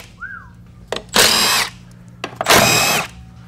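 An impact wrench on a 1999 4L60e transmission fires in two loud, close bursts of about half a second each, with a short whistle heard just before.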